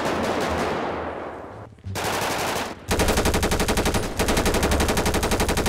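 Gunfire in a GTA 5 roleplay game: rapid automatic bursts crackle loudly, starting with a short volley, then a brief pause, then long sustained rattling strings of shots to the end.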